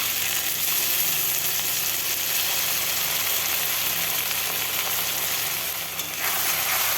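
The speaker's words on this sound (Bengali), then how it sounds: "মশলাটাকেও বেশ কিছুক্ষণ ভেজে নেব, কাঁচা গন্ধ যেন চলে যায়। এইভাবে নাড়তেই থাকবো।" A spice paste with turmeric and salt fries alongside potatoes in oil for Katla fish curry, giving a loud, continuous close sizzle with a constant hiss and no voices.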